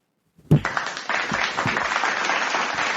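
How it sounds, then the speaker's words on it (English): Sudden hand clapping that starts after a brief silence, with a sharp first burst followed by continuous close, dense clapping that sounds like several people joining in. "let me clap for that."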